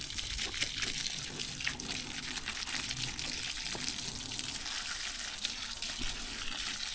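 Steady water running from a hose onto a garden bed outdoors, a continuous hissing gush at even level throughout with no pauses.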